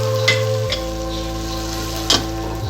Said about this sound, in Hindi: टमाटर गलने तक हम इसको 1 से 2 मिनट अच्छे से पका लेंगे।